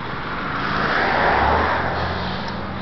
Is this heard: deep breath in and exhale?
no